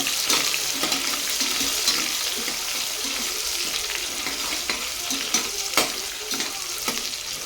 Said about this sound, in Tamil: இப்போ இதை நல்லா வதக்கி விட்டுக்கலாம் நல்லா பொன்னிறம் ஆகிற வரைய இதை வதக்கி விட்டுக்கோங்க